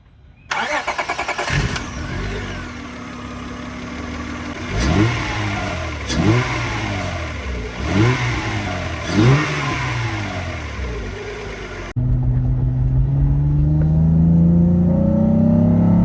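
An Acura TL with a J-series V6 and upgraded camshaft cranks and fires up close by, settles into a lumpy idle, then rises and falls through four sharp revs before an abrupt cut to a lower, steady idle.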